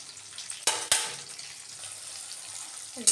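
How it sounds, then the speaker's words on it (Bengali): Onion and garlic frying in a pan on a home kitchen gas stove: a steady soft sizzle with a few sharp clatters of utensil against the pan near the start. "একটু পেঁয়াজ রসুনটা ভেসে দিয়ে দিলাম"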